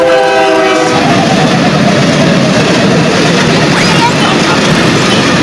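A train passes very loud and close near Olavakkode railway station in Palakkad, its horn sounding at the start over a steady, roaring rumble of wheels and wagons that carries on throughout.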